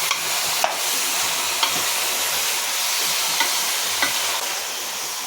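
Chicken being mixed into a hot pan for an egg and chicken sambar, a steady broadband sizzle with a few sharp spoon knocks, no speech.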